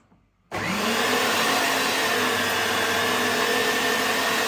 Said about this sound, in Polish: I teraz najbardziej szlachetne kawałki, najmniej tłuste, y, mielę na sitku 7 mm.